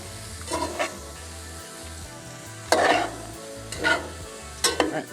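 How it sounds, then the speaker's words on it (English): Seasoned cabbage tossed in a pan for Jamaican sautéed cabbage sizzles softly underneath, with three or four louder bursts of scraping and clattering as the utensil turns it over. "Now just gonna get all this tossed around real good."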